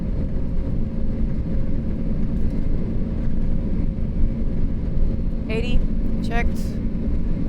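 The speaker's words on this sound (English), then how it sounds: "Takeoff thrust set." Lufthansa MD-11F cargo jet engines at takeoff thrust, heard from the cockpit as a steady, loud, broadband roar that continues throughout, with brief crew callouts spoken over it.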